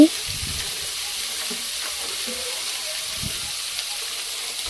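Radish and kohlrabi frying in a pan of oil for a vegetable and small shrimp sour curry, a continuous loud hiss with a few soft stirring thumps.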